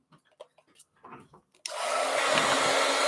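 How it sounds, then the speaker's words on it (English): After a few light taps and handling sounds, a heat gun switches on abruptly and blows a loud, steady roaring hiss to dry paint, running continuously close by without talk. "I'm going to use my heat gun. So heat gun alert."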